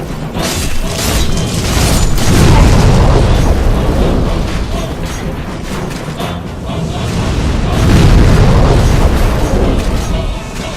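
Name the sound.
booming Tower Knight attacks, Demon's Souls video game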